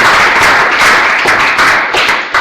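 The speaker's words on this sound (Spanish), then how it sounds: "creo que podemos despedirle con un caluroso aplauso los que estamos aquí" An audience applauds a speaker at a talk on security and freedom in the digital environment, loud close-up clapping from a small group with uneven bursts and brief dips.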